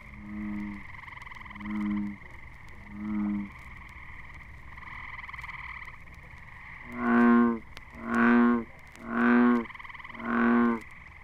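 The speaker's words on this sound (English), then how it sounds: "And a lone bullfrog adds his bass voice to the concert." Bullfrog calls set against a green frog chorus in an evening wood: three short deep croaks are followed by four louder, longer resonant ones at a steady spacing, with a continuous trilling chorus running underneath.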